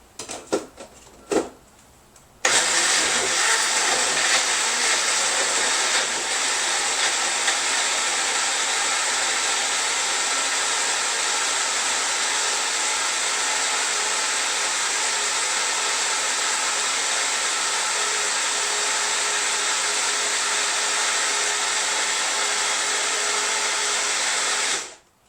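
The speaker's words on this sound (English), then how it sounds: "We're going to go puree this" A blender purees homemade enchilada sauce, running as a loud, steady whir for over twenty seconds after a few brief clunks, then cutting off abruptly at the end.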